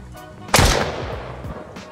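A single sharp pistol shot from the survival game Mist Survival fires at a tree, followed by a decaying echo and a few fainter impact thumps, with no talk over it.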